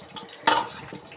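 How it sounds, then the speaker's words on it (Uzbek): A spoon stirs a quick homemade salad with salted carrots in a bowl, one sharp clinking scrape in the middle among softer wet shuffling, close by and without speech. "Endi buni qoshiq yordamida aralashtirib oldim."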